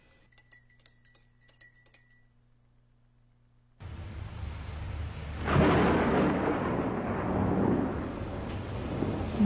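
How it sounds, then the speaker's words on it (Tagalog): A few faint clinks, then a sudden roar of heavy rain and rumbling thunder that swells loudly and holds steady. "Dumating nga ang malakas na bagyo."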